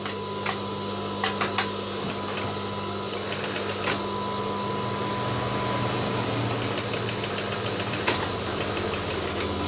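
A sewing machine stitches a three-layer fabric face mask, its motor humming steadily close by while clusters of sharp mechanical clicks and taps come and go, and nobody speaks.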